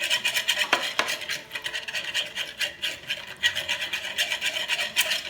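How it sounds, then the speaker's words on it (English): A whisk scrapes fast and rhythmically around a bowl while olive oil is drizzled into Caesar salad dressing, making a close, continuous rasping swish with no voices. "you just wanna lightly drizzle it in as you continue to whisk it, stir it, so that it emulsifies it"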